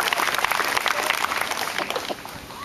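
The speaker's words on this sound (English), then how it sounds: "Give them a round of applause and thank you very much," A crowd applauds ambulance crews at a Marine Park September 11th community gathering, a dense, steady clapping that runs throughout and eases off slightly toward the end.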